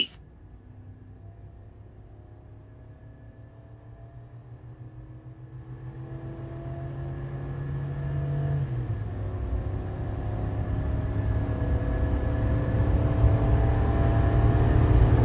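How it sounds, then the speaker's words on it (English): A 2024 Chevy Silverado HD pickup with the gas L8T V8 accelerates from 0 to 60 while towing a trailer, its engine drone rising steadily in pitch and loudness with a brief shift partway through, heard from inside the cab. "let's go ahead and do a 0 to 60 run now"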